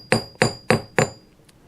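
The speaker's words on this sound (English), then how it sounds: "now I start moving my hammer back a little bit" A forging hammer strikes hot metal on an anvil in four sharp, ringing blows at an even pace, each with a bright metallic tone, followed by a lighter tap and a pause.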